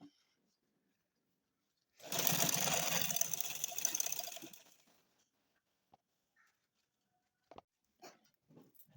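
A sewing machine stitches over the belt of a tulip shalwar in one loud burst of about two and a half seconds, followed by quiet handling and a few faint clicks.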